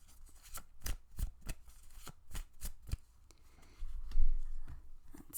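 Tarot cards are shuffled close by in a quick series of crisp riffles and slaps, settling briefly before a heavier flurry of card handling at the end, with no talking.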